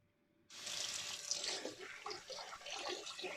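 Cold water gushes steadily from a tap into a sink, starting abruptly after a brief quiet moment and running loud and close with a splashing hiss throughout.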